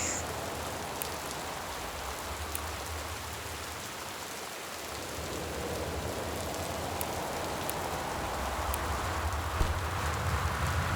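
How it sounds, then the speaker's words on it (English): Loud, steady rain in the video game Gone Home, a dense, even wash of falling water that keeps up without a break and with no voices. "Damn, that is some loud rain."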